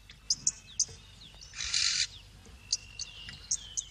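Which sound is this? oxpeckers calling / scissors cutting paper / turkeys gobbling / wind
oxpeckers calling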